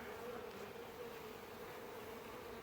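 Dense, steady buzzing of many honeybees in a hive, a constant low drone filling the whole stretch without pause.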